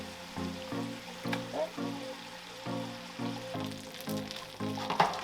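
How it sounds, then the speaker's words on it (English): A Wagyu ribeye steak sizzles in a hot pan while being basted with rosemary; the steady frying hiss runs beneath a rhythmic, pulsing tonal background. "we're going to continue basting"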